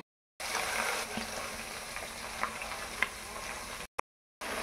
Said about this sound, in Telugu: పోపులో వేసేద్దాం.